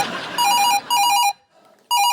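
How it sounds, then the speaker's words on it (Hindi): A telephone bell rings in repeated bursts, loud and close, with a short pause before the next ring begins. "मेरी बीवी का फोन आ रहा है।"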